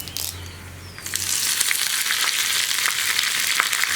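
Mustard seeds, dried red chillies and curry leaves fry in hot oil, a close, loud sizzle that swells as the chillies and leaves go in, with scattered crackles and pops.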